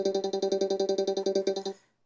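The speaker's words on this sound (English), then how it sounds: "here's the sound of just paint." A rapid, even run of about fourteen synthetic tonal blips from the Tux Paint drawing program's paint tool, each pulse identical and close, playing alone before stopping abruptly.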